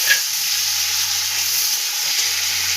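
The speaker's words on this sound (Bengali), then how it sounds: "এবার আমি টমেটো দিয়ে দেবো।" Tomatoes tipped into onions already fried red in hot oil for an egg curry, giving a steady, close, loud sizzle and hiss with a brief sharper crackle at the start, no talking.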